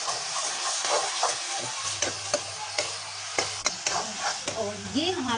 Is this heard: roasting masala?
yes